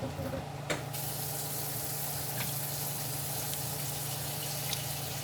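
Water runs from a tap into a pot of pork neck bones on the stove, a steady, moderately quiet rushing flow with a brief clink near the start.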